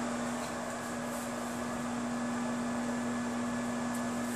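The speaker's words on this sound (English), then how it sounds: "get a little microwave bowl, dump it in there, and do it for like 30 seconds" A microwave oven hums steadily while heating a small bowl of sweet potato casserole, a faint, even drone with a constant tone and no breaks.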